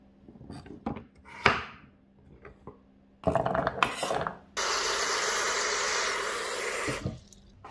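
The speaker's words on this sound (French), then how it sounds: "je coupe en petits morceaux, c'est pour faire cuire plus vite" Potimarron and butternut squash being chopped into small pieces on a cutting board, heard as a series of rough scraping and rasping knife strokes with a longer steady scraping stretch near the end, with no talking.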